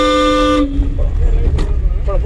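A car horn sounds once, loud and close, for about half a second during a driving lesson, followed by engine rumble and a voice speaking.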